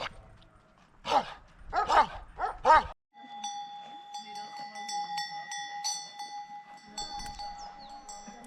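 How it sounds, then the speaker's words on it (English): A dog in a Balkan mountain pasture gives four loud, close barks in quick succession, then falls quiet as cowbells clank and chime steadily in the background. "I think this dog wants to hurt me"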